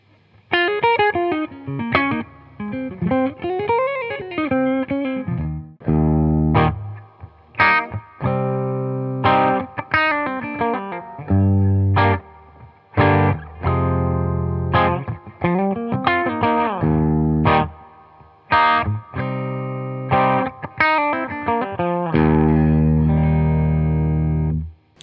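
An electric guitar plays through a Paul Cochrane Timmy overdrive pedal set to light gain, giving a close, mildly driven tone. Ringing chords and single notes sound alone, with gaps between some phrases.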